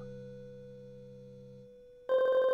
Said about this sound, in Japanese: これは多分あのメロディーって長地先生の電話だと思うの